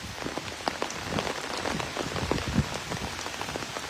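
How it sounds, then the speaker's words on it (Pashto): Heavy rain falling steadily in Shangla, Khyber Pakhtunkhwa, a dense close patter of drops striking a hard surface with occasional louder splats, no voices present. "شانګله کې هم باران دی. بلکل دلته هم دی"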